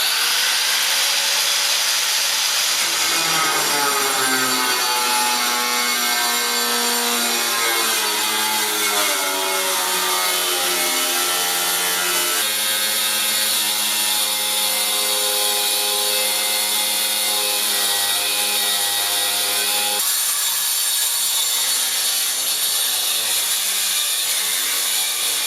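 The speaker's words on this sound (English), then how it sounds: "Typically, you just use one of these spot weld cutters and get through that first layer and it'll release." A spot weld cutter drills through a car body's sheet metal in a long, loud, continuous whine with shifting tonal pitch as the bit bites through the layers.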